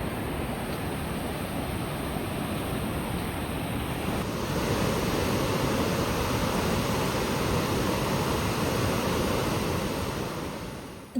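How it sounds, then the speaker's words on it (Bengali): A waterfall in Kerala pours in a steady, broadband rush of water, loud and unbroken throughout, with a faint wind-like hiss and no voices. "শুনতে পাচ্ছেন ঝর্নার শব্দ শোনা যাচ্ছে"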